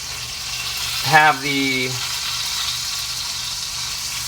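Ribeye steak searing in butter in a pan, a steady sizzle running throughout, with a brief tonal kitchen sound partway through and a few spoken words.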